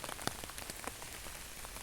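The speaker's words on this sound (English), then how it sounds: "It's not as if the rain is stopping at all anyway. It's continued to come down." Rain falling steadily during a River Don flood at Lower Sprotbrough, a faint even hiss of drops pattering on surfaces with scattered louder ticks, no voices.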